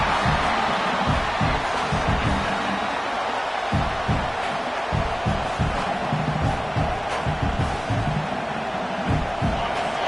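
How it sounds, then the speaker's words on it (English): Home crowd at a football game roars in a steady, dense wall of cheering noise, far-off and broad, with a commentator-like voice pulsing underneath. "this home crowd is fired up and ready to make a difference today"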